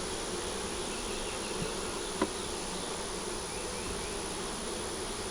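Honeybees buzz in a dense, steady hum around an opened hive, a continuous close drone with a faint click or two, no voices.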